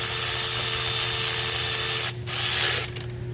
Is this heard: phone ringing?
no